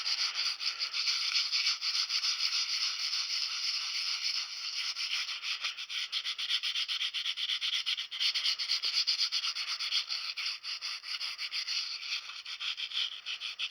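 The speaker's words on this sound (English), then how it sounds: "any of these little small imperfections I'm going to sand over" Sanding by hand over small imperfections on a homemade wooden antler display plaque, working around the horns; a steady, continuous rubbing scrape with slight rhythmic variation, close and fairly quiet, with no talking.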